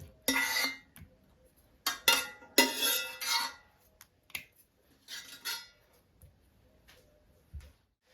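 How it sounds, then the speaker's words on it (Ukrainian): Fried meat with onion tipped into a bowl in a home kitchen: a few separate bursts of clattering and scraping against the dish, short clinks and rustles with quiet gaps between them and no talk. "Тепер ми сюди в миску висипаємо наше м'ясо з цибулею."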